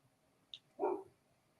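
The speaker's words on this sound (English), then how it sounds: "can you hear her barking?" A dog gives a single short, muffled bark, faint and somewhat distant, preceded by a brief high click in otherwise quiet surroundings.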